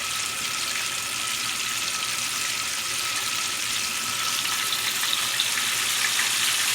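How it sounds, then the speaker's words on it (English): Steady, crackling sizzle of cod chunks frying in a hot pan, close up and continuous, with no voices. "Look at that sizzle."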